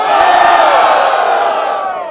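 Crowd at a Brazilian freestyle rap battle roars and cheers loudly and continuously, a dense wall of voices and shouts that holds steady before easing slightly at the end.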